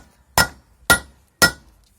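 Three sharp, loud metallic hammer strikes, evenly spaced, on a bolt driving the axle into the rear wheel bearing of a Volkswagen Golf 3, each with a short ringing decay.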